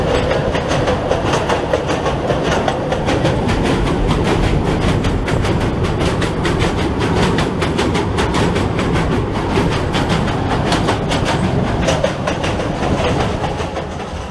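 A Kangra Valley Railway train running past Lunsu halt: a loud, continuous rumble of wheels on rails with a steady clickety-clack rhythm, close by and fading slightly at the end.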